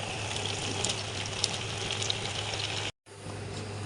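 Vegetables go into a simmering gravy in a pan for a Chinese-style vegetable dish, giving a steady bubbling sizzle throughout, broken by a brief moment of silence near the end before the frying resumes.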